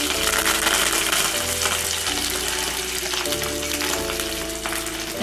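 Mustard seeds and curry leaves sizzling loudly in hot oil, a dense, constant crackling spatter close by with a low steady hum underneath and no talking.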